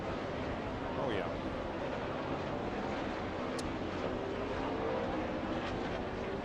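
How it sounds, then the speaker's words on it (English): Stock cars at the 2006 NASCAR Dodge Save Mart 350 race roar past in faint, distant engine sweeps over a constant wash of crowd and track noise. "Boy, a lot of cars just squeaking by"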